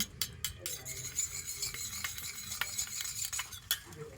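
Shampoo being stirred into crushed guava leaves in a bowl, a steady run of soft scraping and wet mixing with sharp utensil clinks against the container, close and fairly quiet with no talking.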